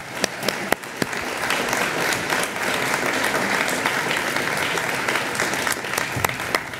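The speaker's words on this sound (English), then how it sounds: "They do indeed deserve our applause," Audience applause at a county board of supervisors candidates forum, a steady dense wash of many hands clapping throughout, moderately loud, with a few sharper individual claps near the start.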